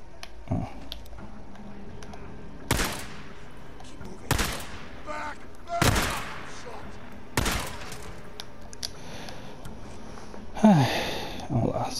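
Gunfire in the video game Days Gone, four sharp, loud single shots spaced about one and a half seconds apart, each with a short echoing tail, over quiet background and a brief voice near the end.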